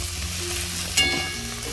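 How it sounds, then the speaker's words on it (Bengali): Okra and potato sautéing with spices in a pan over low-to-medium gas heat, a steady close sizzle with a brief clink of stirring midway. "আমি এই পর্যায়ে কিন্তু একটু নাড়িয়ে চাড়িয়ে ঢেঁড়স ও আলুটাকে মশলার সাথে কিছু সময় ধরে কষিয়ে নিচ্ছি।"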